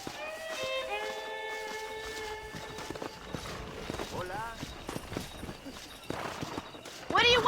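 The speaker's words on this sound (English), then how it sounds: "That ranch hand said there's a pack of wild horses nearby." Wild horses in Red Dead Redemption, their hooves clip-clopping in quick irregular beats with a couple of short whinnies, starting with a sustained high tonal swell and ending in a louder burst.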